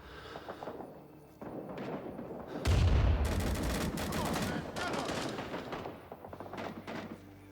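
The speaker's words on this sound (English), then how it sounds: "Behind us, I think we're getting shot at." Battlefield gunfire in the Vietnam War shooter Rising Storm 2: Vietnam, with bursts of rifle and automatic fire, sharp loud cracks and rattling volleys in the middle, fainter shots around them and some game voices.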